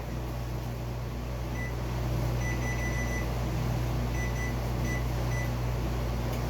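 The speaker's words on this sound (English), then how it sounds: "I just turned the oven off. I'm going to turn that back on real quick." An oven switched back on gives a few short electronic beeps over a steady humming drone from the appliance, close by and with no one talking.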